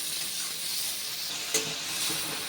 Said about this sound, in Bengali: এবার এই নুন দিয়ে পেঁয়াজ আর টমেটো একটু সময় ভালোভাবে ভেজে নেব, যতক্ষণ না টমেটোগুলো গলে যাচ্ছে